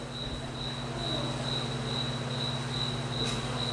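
A cricket chirps in a steady, continuous trill, moderately loud and close, with a faint low hum underneath and no talking.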